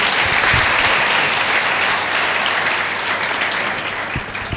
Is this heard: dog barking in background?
no